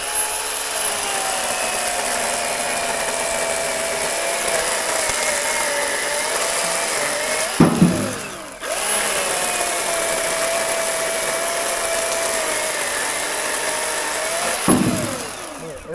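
A battery-powered Ryobi chainsaw cuts wood on a sawhorse with a steady high electric whine, dipping twice as the chain bites into the wood with a crunching cut before spinning freely again.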